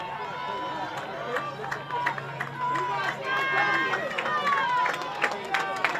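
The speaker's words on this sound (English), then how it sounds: "The Caver crowd trying to urge their team on here" A crowd of San Diego Cavers fans at a girls' varsity game keeps up a steady hubbub of cheers and calls with squeaking shoes nearby. A commentator talks over the noise.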